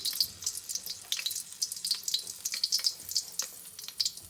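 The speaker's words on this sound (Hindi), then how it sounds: "अब हम लोग ये जो पकौड़े हैं ये हम लोग इसके अंदर घी में डाल देंगे।" Bread pakoras sizzling in hot ghee, a steady, fairly soft crackle with dense popping and bubbling, no voices.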